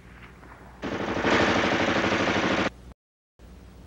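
An M2 carbine fires a full-automatic burst of nearly two seconds, a dense rapid rattle of close, loud shots, followed by a brief gap of silence.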